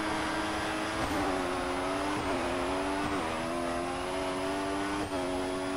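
Formula 1 car at the race start at Bahrain's Sakhir circuit in F1 2016, a loud continuous high-pitched engine whine that climbs steadily through several gear changes, heard close and without pause.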